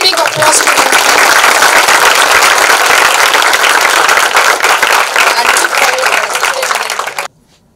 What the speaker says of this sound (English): We can give a very big applause to him.